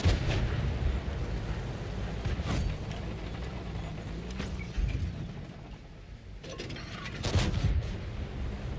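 Cannon blasts from a tank battle game featuring the Red Tiger heavy tank, a few sharp booms over a constant low engine rumble, one near the start and louder reports toward the end.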